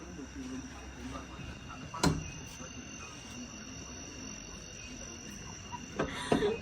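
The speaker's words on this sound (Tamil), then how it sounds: "அந்த சின்ன சின்ன பூச்சி அந்த மாதிரி சத்தம் கேட்கும்." Small insects chirping in a forest near Munnar at dusk: faint, steady high-pitched trilling runs continuously in the background, broken by a few brief knocks and rustles nearby.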